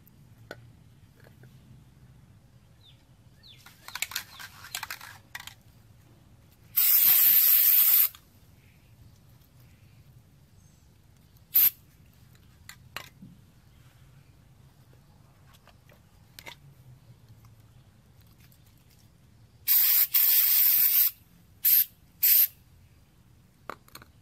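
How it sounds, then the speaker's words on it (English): A Fluid Film aerosol can of waxy, oily spray lets out two loud hissing bursts, the second a few quick blasts in a row, with quiet handling noise and a low hum between them. "I'm gonna shake her up and give her a spray."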